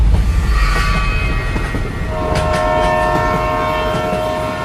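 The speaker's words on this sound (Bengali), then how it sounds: "শুধু রেল লাইনের ওপর দিয়ে ছুটে চলা ট্রেনের শব্দ। জ্ঞানেশ্বরী এক্সপ্রেস।" The Jnaneshwari Express, running from Howrah towards Mumbai late at night, rushes along the rails with a loud, constant roar, and a sustained horn note rises over it partway through.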